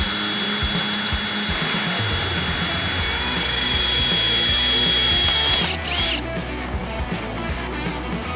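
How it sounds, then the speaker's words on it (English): Power drill boring holes in the interior of a C10 truck under restoration, a loud continuous whine running for several seconds before cutting off, followed by quieter clunks and handling noise. "So all I gotta do is drill some holes,"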